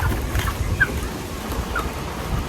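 Strong cold wind on a mountainside buffets the microphone in a low, continuous rumble with gusty surges, no other sound standing out.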